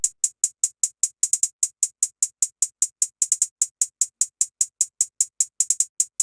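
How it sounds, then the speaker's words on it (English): Hi-hat drum samples programmed in FL Studio for a trap beat tick out a fast, steady stream of crisp, thin hits with occasional quick rolls, playing alone and clearly with no other instruments. "And lastly, we also have these hi-hats right here, which sound like this."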